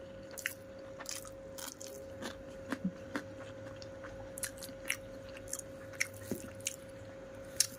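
Close, soft chewing of hot rice mixed with mashed potato, with repeated moist bites and smacks at an uneven rhythm over a faint steady hum.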